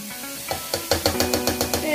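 Salted butter melting and being stirred in a pan: a steady rhythmic series of about eight spoon scrapes and taps over a soft sizzle, close and clear.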